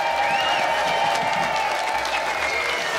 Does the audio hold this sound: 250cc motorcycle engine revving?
no